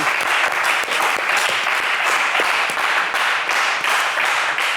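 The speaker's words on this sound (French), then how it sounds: "Allez, des applaudissements pour Yves." Steady, dense applause from a studio audience on a French television game show, loud and continuous from start to finish with no pauses.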